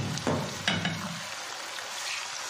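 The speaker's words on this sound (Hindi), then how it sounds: "और इसी घी के अंदर यहाँ पे गोश्त शामिल करूँगा मैं।" Beef frying in ghee in a pan for a korma, a steady close sizzle and crackle with a couple of sharper bursts early on, no talking.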